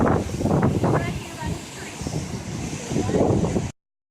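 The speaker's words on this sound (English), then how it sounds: "Oh, the wind is so freezing." Strong outdoor wind buffets the microphone near a waterfall at a mill, a loud, rough rumbling roar that swells and eases, with a person's voice heard talking over parts of it before it cuts off.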